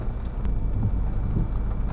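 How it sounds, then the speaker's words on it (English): Strong storm wind in Tornado Alley buffets the microphone outdoors, making a steady, low, roaring rumble that lasts the whole moment, with no voices. "It's windy, yeah"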